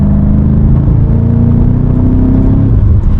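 A BMW M5 Competition accelerating at roughly half throttle on a late-night drive, a loud, steady engine drone from inside the car, its pitch sweeping smoothly upward as it pulls with no break.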